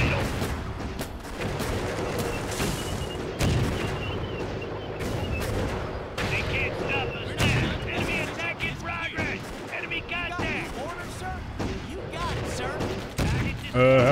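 Gunfire from tanks and infantry in the Blitzkrieg 2 war strategy game, a dense ongoing clatter of shots and booms mixed with game noise, with talking over it.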